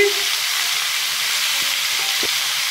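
Raw mango pieces sizzle in hot oil with ginger, chilli and turmeric, a dense, even hiss of frying with a few soft clicks of stirring.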